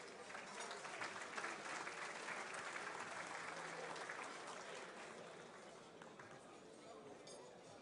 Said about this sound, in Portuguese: Manuel Tavares de Almeida Filho, a quem eu peço uma salva de palmas.